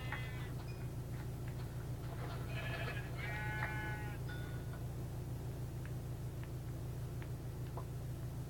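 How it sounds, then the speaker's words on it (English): Sheep bleat in Minecraft, several short wavering calls clustered in the first few seconds over a steady low game hum, with a few fainter blips afterward. "Oh, look, sheep."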